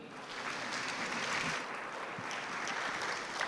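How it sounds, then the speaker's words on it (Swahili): Sustained audience applause fills a formal hall at the launch of a food forum, steady and broad with no voices standing out, a continuous wash of many hands clapping. "Naomba tuwapigie makofi."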